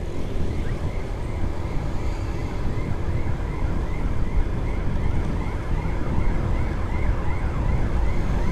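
An ambulance siren wails continuously with a rising and falling tone, loud and steady over a dense rumble of heavy holiday traffic and crowd noise.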